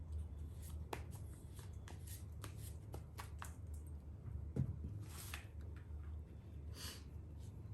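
Tarot cards being shuffled by hand, soft riffling and flicking with a few sharper snaps, close and fairly quiet over a low steady hum.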